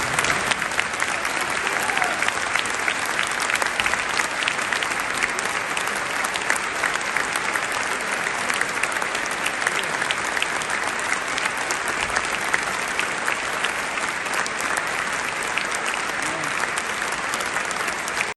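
A stadium crowd applauds in tribute to the victims of the Turkey and Syria earthquake before a Porto football match. Dense, continuous clapping fills the whole stretch at an even loudness, with faint commentary beneath.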